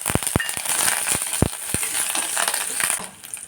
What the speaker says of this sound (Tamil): இந்த வெங்காயம், அந்த பூண்டு இந்த சதைச்சி வச்ச பூண்டு போட்டு நல்லா வதக்கி விடணும்